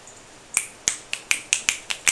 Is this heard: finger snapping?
yes